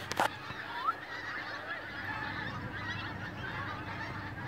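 Ducks call from outdoors, a few loud honking quacks standing out at the start over a constant wash of background noise.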